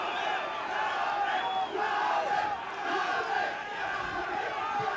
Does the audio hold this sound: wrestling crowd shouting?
yes